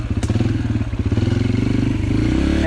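A 2022 Yamaha TT-R125 LE dirt bike ridden on a trail, its small single-cylinder engine thumping in a rapid, steady pulse that rises slightly in pitch near the end, close and loud with some rattling, and no speech.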